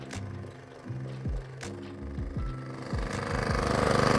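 A Wolf Creek petrol garden power tiller engine idles close by, a rough uneven putter with repeated knocks and slight revving that builds toward the end, no voices.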